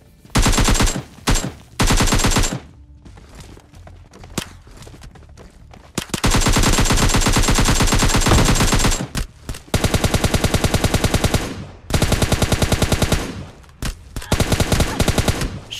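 Loud, close automatic gunfire rips through a PUBG Lite match in long sustained bursts broken by brief pauses, with a dense, continuous rattle through much of the stretch.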